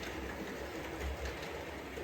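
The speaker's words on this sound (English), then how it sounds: "The train disappears off over the horizon." A model railway train runs past on its track, a low steady rumble with faint rail clatter, fairly quiet and continuous with no voices.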